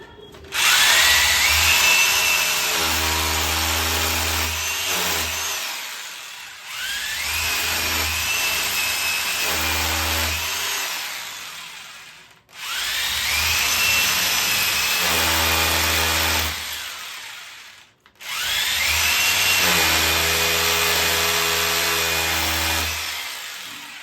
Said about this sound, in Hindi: यहाँ पे 8 नंबर से ड्रिल कर लिए।